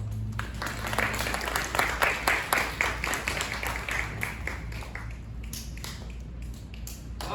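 An audience at a live puppet show of Dickens' A Christmas Carol breaks into applause, a dense wash of many clapping hands that swells and then thins out, heard at moderate distance.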